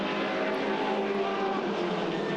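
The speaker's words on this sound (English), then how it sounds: "I was just listening to the noise of that Jag" A Jaguar Group A race car engine at Bathurst holds a steady, loud, droning roar with a dense, harmonic-rich tone, sustained without breaks and with no voices.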